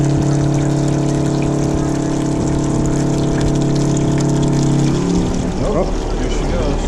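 A pump moves water for a DIY air-to-water intercooler, giving a steady, loud electric whine that cuts off near the end, after which splashing and gurgling water takes over.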